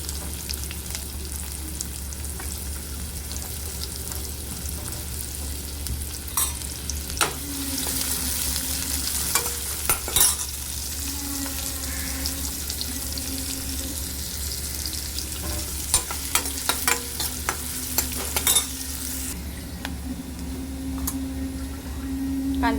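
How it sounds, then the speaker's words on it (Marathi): Chopped onion frying in a pan, added to reddened garlic for a spicy ivy gourd dish: a steady close sizzle with scattered clicks and scrapes as the pieces are stirred. "कांदा टाकायचा आहे कट केलेला."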